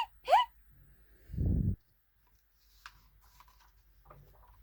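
A single voiced hiccup imitated by a reader for a cartoon skeleton, one short sharp catch followed by quiet pauses and faint small noises.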